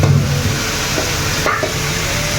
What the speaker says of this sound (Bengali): এই যে আমার মাছ ভাজা